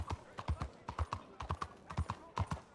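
Hooves of a horse clip-clop in an uneven, irregular rhythm as it turns, a series of close, distinct thuds with some spacing between steps.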